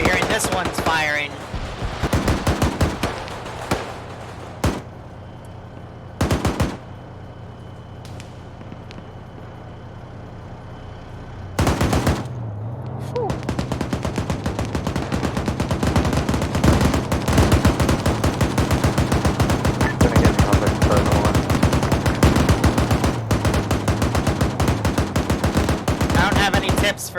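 A .50 cal machine gun fires in a military video game, sustained loud bursts that build into continuous heavy fire in the second half, with a few sharp gaps and dense gunfire throughout.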